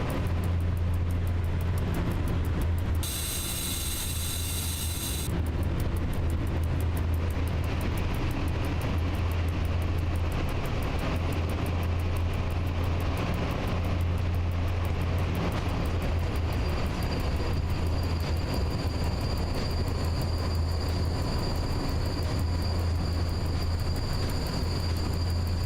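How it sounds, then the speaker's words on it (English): A long, steady rumble of a train slowing to a stop in the SimRail railway simulator, a low continuous drone with a brief high hiss partway through, loud and without speech. "Oh wow, it takes a while to stop this train."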